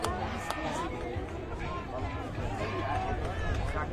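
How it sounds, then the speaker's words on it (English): Boisterous crowd hubbub at a First XV schoolboy rugby match between Kelston Boys' High School and Westlake Boys' High School, a steady wash of cheering and chatter close by, loud and continuous throughout. "As you can hear, there's some hearty chahooing going on down here."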